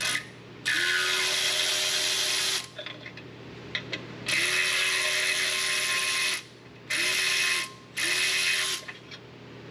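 A powered ratchet driving 3/8 Allen head brake caliper bolts on a Squarebody truck: several loud whirring bursts, each winding up and cutting off, with faint clicks and clanks between them and no talking.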